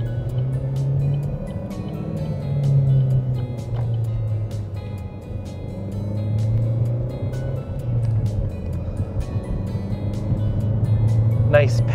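The 1.4-litre turbo four-cylinder of a 2014 Chevrolet Sonic RS manual hatchback drones steadily from inside the cabin while driving, its pitch rising and falling with throttle and sharp clicks now and then.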